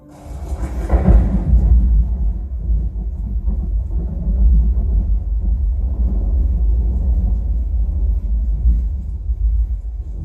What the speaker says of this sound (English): Soon a thundering and storm arose.